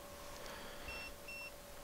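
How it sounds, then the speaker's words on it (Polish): A fishing bite alarm receiver at a lakeside fishery gives two short, clear electronic beeps in quick succession over quiet background hiss. "zaraz piknie aparatura"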